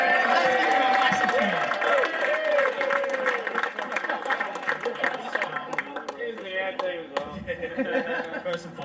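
At a Clairvaux FC senior awards night, the crowd cheers and claps for award winner Joseph, a lively swell of applause and whoops mixed with voices that tapers into scattered clapping and chatter.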